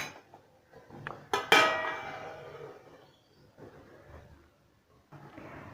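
A metal lid is set onto a pot of simmering egg curry: a few light knocks, then a sharp ringing clank. Afterwards only faint kitchen noise and soft scraping follow.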